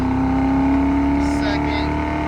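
A 1965 Ford Mustang fastback with a 289 V8 and four-speed revs hard in first gear near 5,000 RPM, a loud, close, sustained engine drone with a steady tonal whine.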